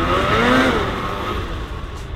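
A Polaris RZR side-by-side revs hard in the snow, its engine rising in a loud whining pitch sweep then settling into a steady drone.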